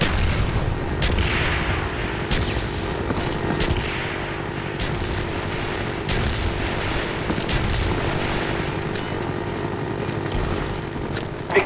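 Artillery strike in a multiplayer Call of Duty team deathmatch on the map Cracked, with continuous rumbling booms and explosions layered over a roaring, aircraft-like drone and sharp scattered blasts, loud and sustained with no speech.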